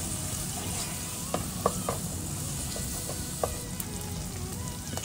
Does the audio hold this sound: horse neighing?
no